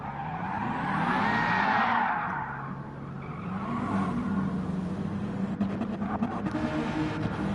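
A race car in a racing game spins out with its wheels on the curb. Engine whine rises and falls over a long tire squeal and skid, then rough rumbling scrapes as it settles, loud and continuous.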